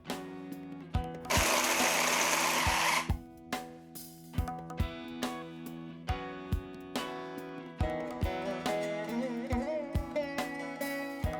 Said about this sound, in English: now I'm going to put this into my blender and grind these dates into a fine paste